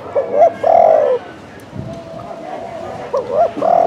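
Close, loud coos from a caged wild-caught spotted dove in Phu Yen, a big bird with a full, rounded call, given in two bursts with a pause of low noise between them.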